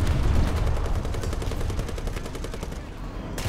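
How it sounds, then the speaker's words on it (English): A Churchill Crocodile heavy tank's flamethrower fires in War Thunder as a dense, continuous roar with a rapid rattling pulse, loud and close, cutting out briefly near the end. "Have some flame."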